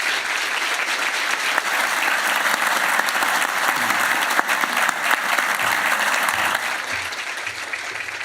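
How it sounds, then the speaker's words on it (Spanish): A full audience applauds warmly at a book presentation, producing a dense, continuous wash of clapping that holds steady throughout and thins slightly toward the end. "Pido un fuerte aplauso"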